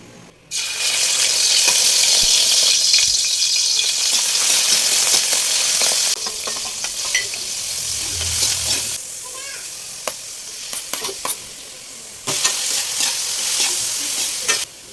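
Pork and chicken liver sauté in a hot pan, giving a loud, continuous sizzle with frequent scraping and clattering from stirring that eases partway through and then flares up again near the end.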